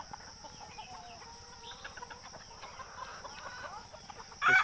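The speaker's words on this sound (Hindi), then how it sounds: "देखिए दो मुर्गे का लड़ाई।" Two desi roosters fight, squawking and clucking in scuffling bursts amid a busy farmyard hum, ending in a loud flurry of agitated calls.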